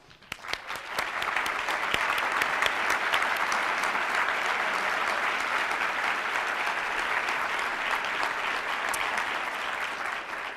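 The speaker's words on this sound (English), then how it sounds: "please stand for a round of applause" A conference audience at an opening plenary applauds the CDOT team, sustained even clapping that swells quickly after a soft start and holds steady to the end.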